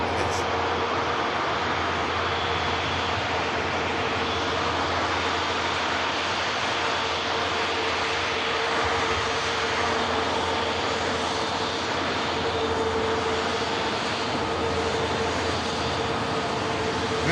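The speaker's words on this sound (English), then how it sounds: "A350-1000 filling your screen as it taxis past us at the incredible runway visit park." A Virgin Atlantic Airbus A350-1000 taxis past close by at an airport runway viewing park, its jet engines giving a loud, steady roar with a high whine that holds evenly throughout.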